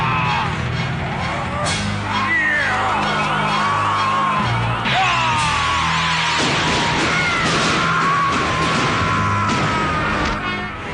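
Loud shouting yells in an Indonesian period drama, several voices crying out in bursts with crashing, crowd-like noise and swelling music behind them throughout.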